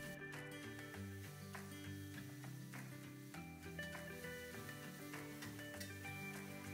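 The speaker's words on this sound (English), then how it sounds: "Add Prima Taste Sambal Belachan cooking sauce and stir fry for 10 seconds." Stir frying Prima Taste Sambal Belachan cooking sauce with red chili in a hot pan, a faint steady sizzle with scattered utensil scrapes over background music.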